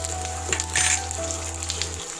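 Urad dal and curry leaves frying in hot oil, a steady close sizzle with crackling pops and one brief sharper spatter, continuing throughout.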